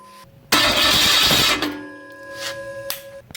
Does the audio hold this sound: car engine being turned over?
yes